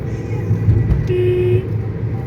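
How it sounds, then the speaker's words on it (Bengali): A car sounds a short horn blast on a mountain ghat road during a road trip through Ladakh, one clear toot lasting about half a second over the steady rumble of the engine and road noise inside the car. "এখানে হর্ন দাও"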